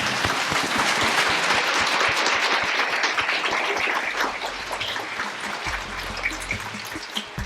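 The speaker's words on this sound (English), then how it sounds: "Let's give them a round of applause." Sustained applause from a live audience at a sewing pattern-maker panel, dense steady clapping filling the room for several seconds and thinning slightly toward the end, with no speech over it.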